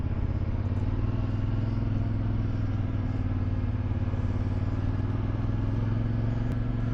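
CF Moto IBEX450 motorcycle cruising through traffic past construction, a steady mid-pitched engine drone with a faint clatter, held at an even level from start to finish.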